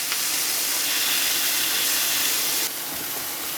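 Monkfish sizzles in a hot pan, a continuous bright hiss, steady and fairly close, easing slightly near the end, with no voices.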